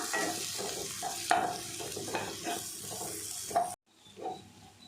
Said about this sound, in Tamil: இந்த எண்ணெயிலேயே நல்லா வதங்கணும், நல்லா வதக்கிடலாம்.